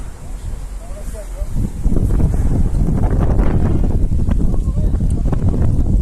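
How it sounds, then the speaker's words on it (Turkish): Strong wind blows during a forest fire in Hatay, a heavy rumbling roar buffeting the microphone that grows louder after about two seconds and stays constant to the end. "Şimdi bize doğru esiyor"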